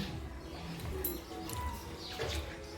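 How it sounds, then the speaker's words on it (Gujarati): Faint sparrow calls drift in from outside at a distance, a few short chirps over a low, steady background hum. "બહાર જે ચકલીઓ પણ સરસ મજાની બોલી રહી છે"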